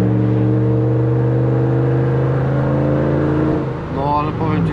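A Dodge Ram pickup's 5.7 V8 Hemi engine hums steadily with a deep exhaust drone during a night drive, then rises briefly as it revs near the end, with people talking over it.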